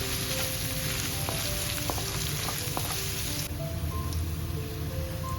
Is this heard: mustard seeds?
yes